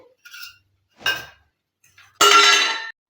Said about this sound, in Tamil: இந்த பாத்திரத்தை அடுப்பில் வச்சுட்டோம்.